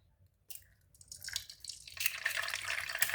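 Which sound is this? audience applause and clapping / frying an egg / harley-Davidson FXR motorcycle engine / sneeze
frying an egg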